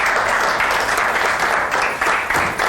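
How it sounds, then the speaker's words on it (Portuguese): Studio audience applause welcoming a guest on a Portuguese morning television programme, a broad even wash of clapping from many hands, loud and continuous with slight swells. "Um aplauso à nossa convidada, bem-vinda."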